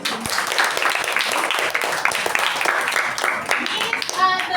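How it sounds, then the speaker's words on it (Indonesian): A primary-school class claps together in a classroom, a dense, steady wash of many small hands lasting the whole stretch at moderate loudness, with voices mixed in underneath. "Tepuk tangan buat kita di sini."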